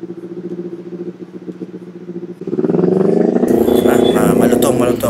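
A Kawasaki Ninja 500 fitted with a V-Lane Alpha Carbon slip-on exhaust, a steady idle burble that swells into a louder, rougher rev partway through, close to the bike.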